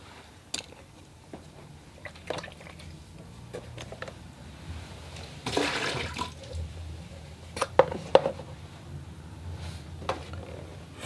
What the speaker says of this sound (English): Fresh water.